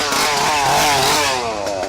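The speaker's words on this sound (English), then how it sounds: "The sound of a chainsaw is scary" A gas chainsaw running without a chain whines loudly and steadily at a haunted attraction, pitch swelling briefly as it revs, close and alone.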